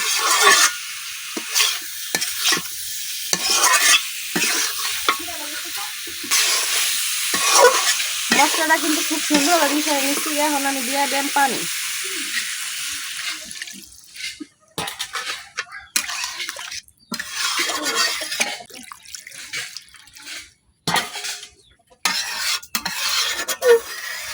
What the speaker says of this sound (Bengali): এখন আমি বাজার রাখা আলু আর বেগুনের সাথে মশলাটা খুব ভালোভাবে মিশিয়ে নিলাম